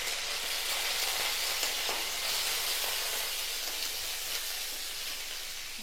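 Mustard seeds, urad dal, curry leaves and red chillies frying in hot oil, giving a dense, steady hiss and sizzle with faint crackles throughout, close and moderately loud.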